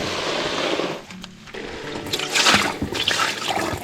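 Water sloshes and pours steadily while gold-panning gravel is washed outdoors, a close, continuous rush with brief dips and surges.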